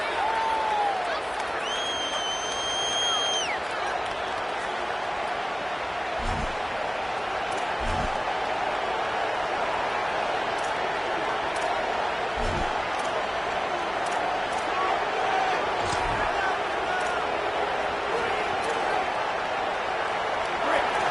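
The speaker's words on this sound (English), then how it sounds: "The roar of the crowd trying to fuel this defense to keep them pinned in their own end." Stadium crowd roaring in a Madden football video game, a steady dense wall of noise that holds for the whole stretch, with a few faint thumps and whistle-like tones rising briefly above it.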